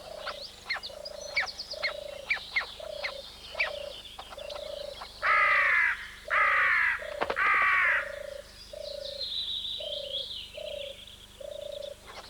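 Green woodpeckers at a nest tree: an adult arriving with food gives repeated harsh calls in a steady rhythm, and chicks answer with loud bursts of buzzy begging, all close and clear with no talk.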